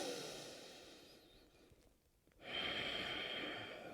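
A deep breath during yoga practice: a long, soft airy exhale fades into a brief hush, then a fuller, brighter inhale rushes in close to the microphone, quiet and unvoiced.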